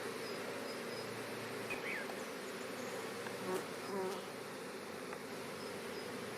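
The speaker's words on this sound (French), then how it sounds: "Les abeilles qui se regroupent dans la ruche." A honeybee swarm gathers into a hive set on a floorboard, producing a dense, steady buzzing hum of many bees, close and even throughout, with a few individual insects droning briefly louder as they pass near.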